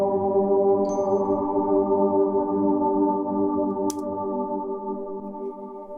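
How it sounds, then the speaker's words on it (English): A sparkly mallet instrument patch from the Calm sound library sustains a bright, layered chord with shimmering overtones, steady and close, with a couple of brief high glints on top. "it's kind of like just like a mallet instrument,"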